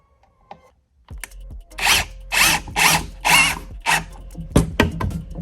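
Close-up power drill driving a screw, whirring in a series of short bursts, five or six pulses with brief pauses between them, ending in a sharper mechanical clunk.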